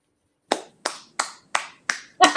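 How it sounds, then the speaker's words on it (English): Six sharp hand claps at an even, unhurried pace to welcome a guest, close and loud in an otherwise quiet room, the last one heavier than the rest. "He clapped for us."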